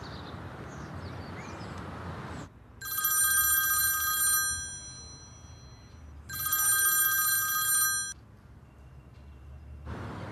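A telephone rings in two long bursts of electronic trilling, loud and near, separated by a pause with faint background noise between them.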